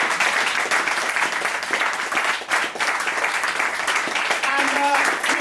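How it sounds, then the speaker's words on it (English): A studio audience at a comedy quiz show applauds loudly and steadily throughout, a dense wash of clapping with a brief dip midway and a faint voice near the end. "give yourselves a massive round of applause because you were fantastic"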